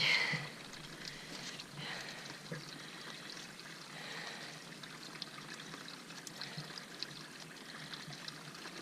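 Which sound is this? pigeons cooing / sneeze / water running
water running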